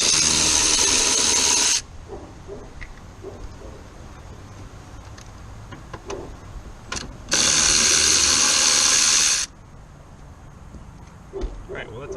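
Power tool whirring in two bursts while removing bolts from a Lexus LS400 fuel pump, each burst lasting about two seconds with quiet pauses and small clicks of handling between them.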